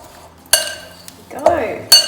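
Spoon clinking against a bowl while stirring quick-cooking oats into a crumble topping, a few sharp distinct clinks and scraping close by with a quiet kitchen background.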